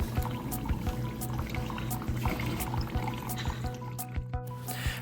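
Water flowing through a pipe apparatus in a fluid flow experiment rig, a steady continuous rushing and trickling with faint clicks and a mechanical hum underneath, moderately loud and close.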